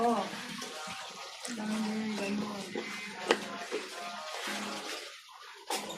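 Vinegar is poured into a cooking pot for paksiw, a soft liquid trickle with a few light clinks, fairly faint under a voice talking nearby.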